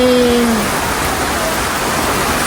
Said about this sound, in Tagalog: Gawa na ang malakas na ulan.